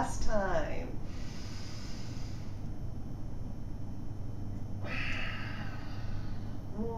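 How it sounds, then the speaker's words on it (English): Deep breathing during seated yoga: a long, hissy inhale and exhale through the nose, with a second breath beginning near the end, close and steady over a faint background hum. "That feels good to get that full breath in."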